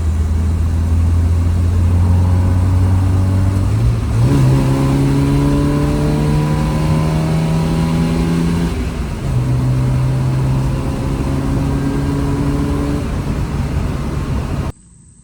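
A Volvo 242 engine idling steadily up close, with a couple of brief revs raising its pitch before settling back to a smooth, constant hum; it cuts off abruptly.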